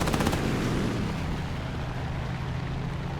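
Enemy plane's guns firing in the War Thunder air arcade battle, a fast rattling burst of machine-gun fire at the start giving way to a heavy continuous engine and gunfire roar, loud and close, with no talking.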